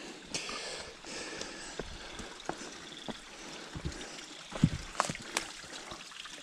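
A forest stream on a hiking route to the Old George Dam trickles and burbles steadily at low level, with scattered small splashes and knocks over the flow.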